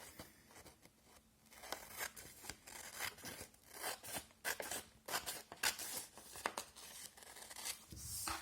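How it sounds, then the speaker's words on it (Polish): Scissors cut through a sheet of paper in a craft project, a quick series of close, crisp snips and rustles in irregular rhythm, with no talk. "To teraz bierzemy do ręki nożyczki i odcinamy pozostałą część gdyż ona nie będzie nam już potrzebna."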